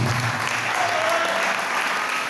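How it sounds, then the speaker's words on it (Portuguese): A church congregation applauds Jesus with dense, steady clapping that fills the room at an even level throughout, with no voices standing out. "Dê uma salva de palmas para Jesus"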